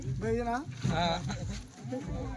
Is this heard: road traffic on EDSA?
no